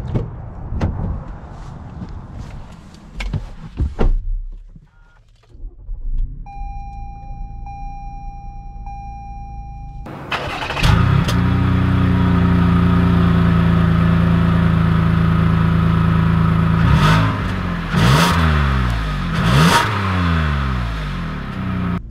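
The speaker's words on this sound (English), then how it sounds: "let's take this Highlander Limited out and see how it drives" A 2020 Toyota Highlander Limited, done in purple, has its door shut and a chime sound before the engine starts with a rising rev and settles into a steady close hum, then swells as it pulls away.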